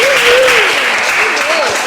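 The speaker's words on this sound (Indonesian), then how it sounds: "Tepuk tangan untuk Anggi" Classroom applause from students for a small student group after their presentation, a steady dense patter of clapping with a voice or tonal line gliding above it throughout.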